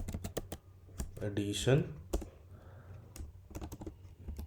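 Rapid close clicks of a computer keyboard as code is typed, in quick bursts with short pauses, while someone speaks briefly over the keystrokes.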